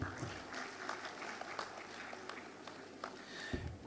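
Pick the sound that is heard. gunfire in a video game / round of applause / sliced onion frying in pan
round of applause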